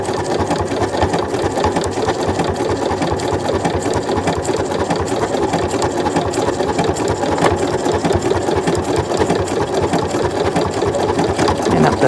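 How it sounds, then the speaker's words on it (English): A sewing machine stitches a zigzag cross stitch in a fast, steady, continuous mechanical rattle. It is loud, close and uninterrupted. "It's doing zigzag cross stitch right now and it's coming down the middle line."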